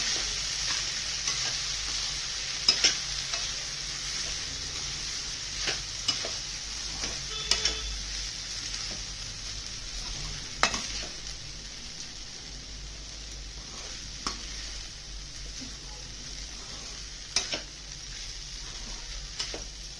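Cucumber poha with lemon juice stirred in a pan, a soft steady sizzle with scattered faint scrapes and clicks of the spoon, quiet and continuous.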